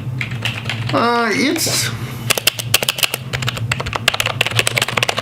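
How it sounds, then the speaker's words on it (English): Someone types on a gaming computer keyboard. A person speaks briefly first, then a quick, close run of crisp key clicks follows, with a few louder taps mixed in. "on the actual button itself kind of quiet, but the spacebar is still kind of noisy"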